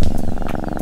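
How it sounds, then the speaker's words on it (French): A cat purring close by, a steady continuous rumble with soft rhythmic pulses, loud and alone with no talk. "Un autre chat."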